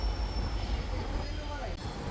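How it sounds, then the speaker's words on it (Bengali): A MEMU local train pulls out of Kharagpur station, heard from on board as a steady low rumble of wheels and carriage with a faint high whine above. "দেখতে দেখতে আমরা খড়গপুর স্টেশন ছেড়ে দিলাম"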